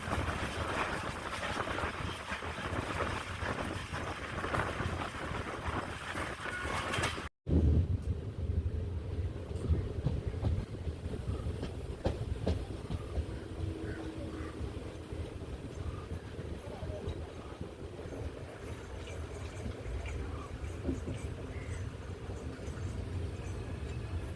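An express passenger train runs fast between Kollam and Thiruvananthapuram, heard as a loud, steady rumble with strong wind buffeting the microphone and one brief dropout early on.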